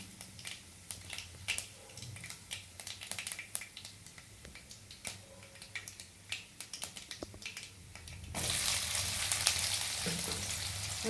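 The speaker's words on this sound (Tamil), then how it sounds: "வெங்காயம் போடலாம்" Chopped onions hitting hot oil in a kadai after mustard seeds and dals have crackled, a run of sharp spluttering pops that gives way to a loud, steady sizzle.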